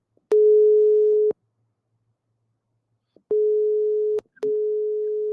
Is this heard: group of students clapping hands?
no